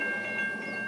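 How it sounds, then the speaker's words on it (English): Train sound on a prairie where no tracks remain, a brief steady rumble with a high sustained whistle-like tone, heard alone. "It's a train."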